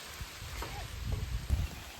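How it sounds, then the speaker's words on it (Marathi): Rain falling outdoors in a village on a breezy day, a soft steady patter with a few low gusty thumps, fairly faint and heard alone without talk. "पाऊस आला भाई,"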